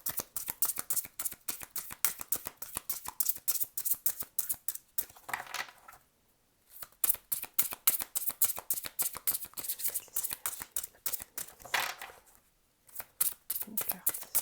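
Oracle cards shuffled for a full moon reading, rapid rhythmic riffling flicks in close repeated bursts, broken by two brief pauses.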